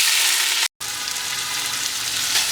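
Sliced onions hit hot oil in a pot for Moradabadi mutton biryani, a loud, steady broadband sizzle with a brief dropout near the start, no voices.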